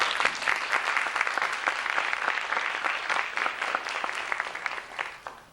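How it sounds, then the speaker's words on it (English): An audience at a lecture bursts into sustained applause to welcome guests, dense clapping filling the hall for several seconds before thinning out at the end. "we can say welcome with a round of applause"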